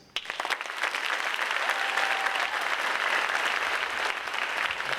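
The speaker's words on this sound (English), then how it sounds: "what about joining me in extending a round of applause for our outstanding" An audience at an 8th grade bridging ceremony breaks into sustained applause for the teachers, starting abruptly and holding steady and full at close range throughout.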